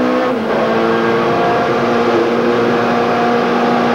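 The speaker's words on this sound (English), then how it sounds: "Board camera mounted on the McCleary Opel Astra provides a bird's eye view of a sack car being pushed to the limit" On-board sound from a McCleary Opel Astra touring car pushed hard around Kyalami in the 1993 South African Super Touring final: a steady, loud, sustained engine drone with strong tonal harmonics throughout.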